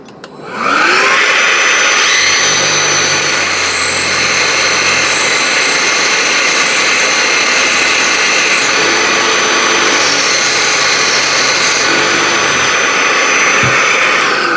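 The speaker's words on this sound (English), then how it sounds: "I'm going to turn the vacuum on." A cordless vacuum switches on and roars at a steady high pitch, loud and close, with small changes in tone as it works.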